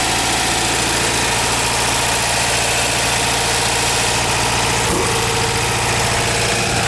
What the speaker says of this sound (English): Idle is set perhaps just a little high.